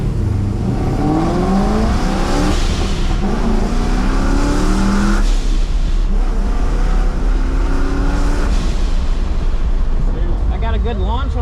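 A Holden ute launches at a track day, its engine roaring loud and close as it climbs through the gears in rising sweeps, with brief shifts between pulls.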